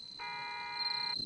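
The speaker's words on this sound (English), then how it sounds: "That's the sound of a car." A patrol car sound from the video game Forest of Drizzled Rain: a faint, buzzy electronic tone held for about a second against a thin high whine and low background noise.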